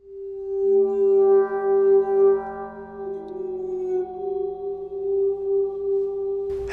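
A Cristal Baschet, played by rubbing its glass rods so the metal parts vibrate, sings a long, pure sustained tone with a shifting pitch, smooth and close, alone until a short noise at the end.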